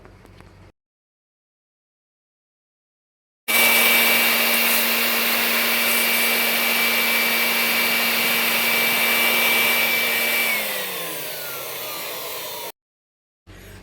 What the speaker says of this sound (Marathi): ब्लोअर मशीन म्हणजे हवा मारायची मशीन